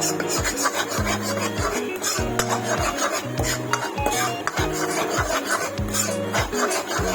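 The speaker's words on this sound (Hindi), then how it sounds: "और मैं इसको आटे को इस तरीके से चम्मच की मदद से इस तरीके से हिलाऊंगी" A spoon stirs a flour (aata) batter for pahadi badi in a rhythmic, repeated scraping and rubbing pattern that stays steady and fairly loud throughout, with no voices.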